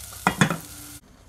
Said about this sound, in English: you add a little oil, then you put in your vegetable. And you saute it a little bit in the pot.